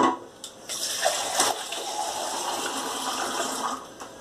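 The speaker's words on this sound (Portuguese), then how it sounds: "Então aqui eu vou colocar só mais um pouquinho de água." Water poured into a pressure cooker pot holding beef for roasting, a steady gushing trickle close by with a few light clinks against the metal.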